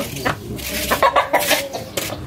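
A fighting rooster clucks and squawks in a series of short, close calls, with a faint voice in the background.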